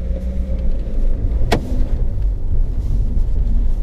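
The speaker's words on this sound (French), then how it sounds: "Si j'accélère trop fort, bien sûr ça va patiner" A car pulls away hard on snow at an ice-racing event, its engine rumbling loud and close for a few seconds, with one sharp crackling burst partway through.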